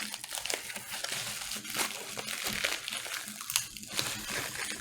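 Paper and plastic packaging of a Video Games Monthly subscription box crinkles and rustles steadily while scissors cut it open, with dense close-up crunching and several sharper snips.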